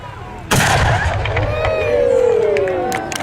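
A reenactment cannon fires at a Battle of Brooklyn reenactment, one sharp loud boom that rolls into a long, sustained rumble and crowd noise.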